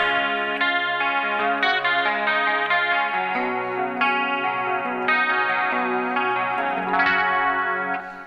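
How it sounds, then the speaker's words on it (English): Electric guitar with a chorus effect playing a verse part, a steady clean shimmering line of picked notes and chords, close and loud with no talking. "So that's pretty simple chorus tone."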